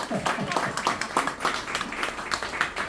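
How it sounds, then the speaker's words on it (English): Applause at a memorial gathering, individual claps spaced in a loose rhythm from a small group nearby, heard under people talking. "Give her a round of applause"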